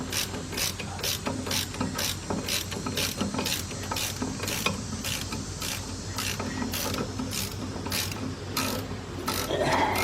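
Rapid, steady clicking of a ratchet backing a bolt out of the power steering pump on a Hyundai XG350, close and continuous in quick regular bursts with no talking.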